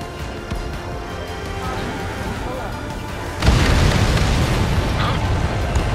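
An enemy transport blows up in the Ace Combat 7 flight game, a sudden loud booming burst that breaks over steady jet and battle noise and rolls on as a heavy rumble.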